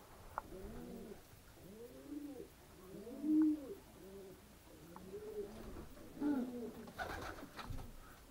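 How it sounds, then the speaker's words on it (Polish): Several racing pigeons coo repeatedly in soft, rolling phrases, overlapping at a moderate distance, with a few louder calls standing out. "O, 20 gołębi jest."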